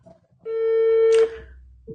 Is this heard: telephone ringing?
yes